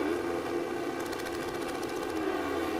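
Kawasaki Ninja 400 race motorcycles rev on the grid at Laguna Seca before a junior cup race start, a sustained buzzing engine drone with pulsing, warbling revs, fairly distant and continuous without speech.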